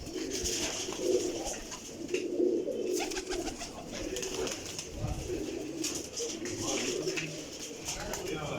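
Pigeons cooing softly in a breeding setup, repeated low throaty coos from several birds at a moderate distance, with faint background noise and no talk.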